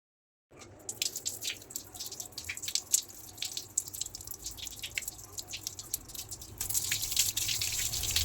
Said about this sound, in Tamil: இப்போ இதை வந்து வாஷ் பண்ணி காட்டு